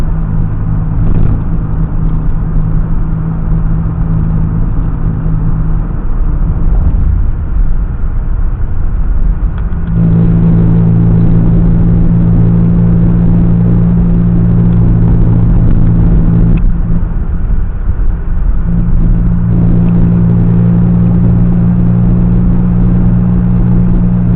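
Car engine drumming steadily on a sunny country road between Immingham and Melton Ross, a loud continuous rumble close by that swells and eases as the driver changes pace, with no talk over it.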